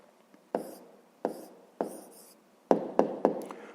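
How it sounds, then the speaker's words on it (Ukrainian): Pen writing an answer by hand for a fifth-grade math exercise, heard as bursts of scratchy strokes separated by short pauses, close and clear with no talking. "А тепер записуємо відповідь, пишемо відповідь"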